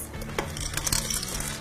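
M&Ms being mixed into cookie dough in a mixer at medium-low speed, a brief close clatter of candy pieces tapping and rattling against the bowl over a low motor hum.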